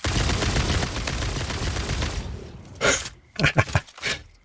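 Homing rounds fired from a weapon in the video game Satisfactory, starting in a dense burst of crackling gunfire, then trailing off into a few separate sharp shots and impacts near the end.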